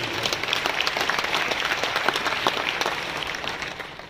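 Steady, moderately loud applause from a crowd fills a conference hall at a Voice of Media state conference in Baramati, continuous clapping lasting about four seconds.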